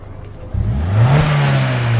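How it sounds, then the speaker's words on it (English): A Vauxhall VXR car engine close by, rising from idle into a strong rev that holds at a steady high pitch. "That's the car, that's Ems' new car. VXR, baby."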